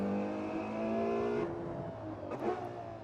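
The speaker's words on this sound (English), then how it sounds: "I'm driving a supercar of my choosing" A Ferrari 812 Superfast supercar engine on a racetrack at Las Vegas Motor Speedway, a steady high drone that drops off sharply partway through, followed by a brief rising rev.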